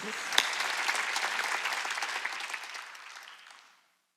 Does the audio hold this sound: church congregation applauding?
yes